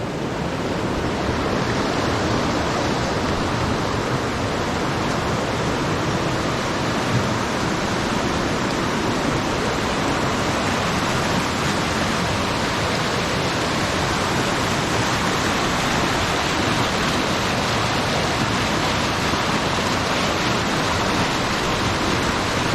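A creek running high after days of heavy rainfall, a dense, continuous rushing roar of water that stays loud and steady throughout with no voices.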